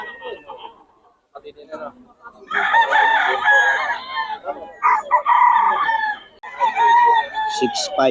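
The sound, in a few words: Pumpkin Hatch gamefowl rooster crowing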